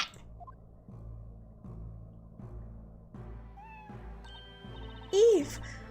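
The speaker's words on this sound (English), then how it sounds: "Was it this cat?" A cat meows once near the end in the Professor Layton vs Phoenix Wright video game, a short, clear cry over a looping, rhythmic game music bed with a few soft chimes.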